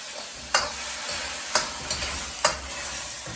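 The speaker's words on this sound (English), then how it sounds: "There you go, sizzle, sizzle." Vegetables stir-fried in a pan with sweet and sour sauce, a continuous loud sizzle broken by a few sharp scraping stirs, close up with no talking.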